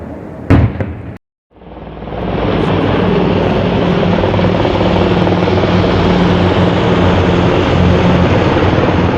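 Helicopters roar overhead in a loud, steady, continuous drone, after a brief thump and a moment of silence at the start.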